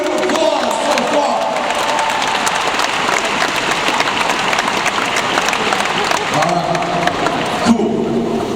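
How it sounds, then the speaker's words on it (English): Loud, sustained applause and cheering from a hypnotist show audience, a dense steady wash of clapping with whoops and shouts throughout. "Give them a huge round of applause so far."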